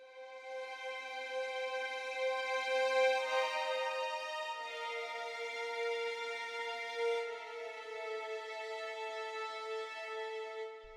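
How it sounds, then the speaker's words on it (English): Spitfire Albion V strings holding sustained double-stopped fifths, long bowed notes layered in rich harmonics, changing chord around midway and ringing steadily and alone for the whole stretch. "And we have the double stopped fifth longs, which sound like this."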